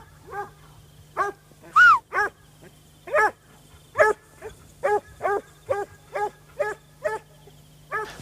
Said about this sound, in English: The dog's going round and round like that.